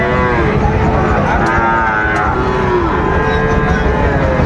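A Sahiwal bull moos in long, drawn-out, low calls close by at a cattle market, over a steady rumbling background.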